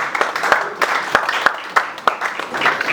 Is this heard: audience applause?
yes